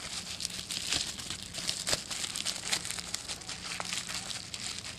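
A bubble wrap envelope holding a replacement liner for a Gatling Blaster Stirling engine is handled, giving steady close crinkling and crackling for several seconds, with no voices.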